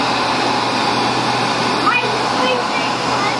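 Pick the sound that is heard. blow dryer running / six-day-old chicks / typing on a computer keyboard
blow dryer running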